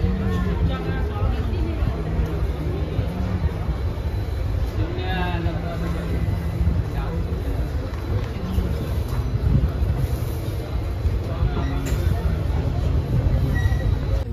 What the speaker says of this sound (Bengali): 1 মিনিট মতো দাঁড়িয়ে ট্রেন ছেড়ে দিল